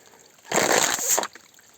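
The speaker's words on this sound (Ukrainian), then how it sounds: "і набираємо водичку." Water trickles and gurgles steadily into a bottle in the Carpathian mountains for under a second, close by, then stops abruptly.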